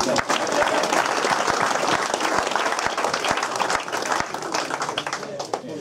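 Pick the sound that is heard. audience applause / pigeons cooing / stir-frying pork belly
audience applause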